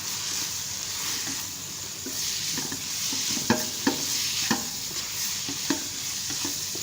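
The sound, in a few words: stirring vegetables with vinegar and soy sauce in a pan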